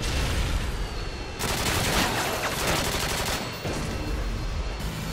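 Automatic gunfire in Call of Duty: Modern Warfare 2, in a team deathmatch on the Afghan map, comes as loud, sustained bursts of rapid shots with brief pauses between volleys.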